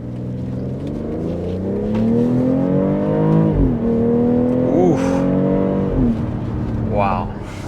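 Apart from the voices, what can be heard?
BMW iX xDrive50 electric car accelerating hard in sport mode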